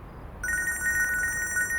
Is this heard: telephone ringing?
yes